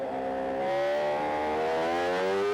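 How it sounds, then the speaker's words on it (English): A 1000cc Suzuki GSXR engine powers a racing sidecar at the 2007 FIM Sidecar World Championship round at Le Mans, revving hard and climbing steadily in pitch with a strong, close, continuous howl and no talk. "Just listen to that 1000cc Suzuki GSXR engine as they ride around this last"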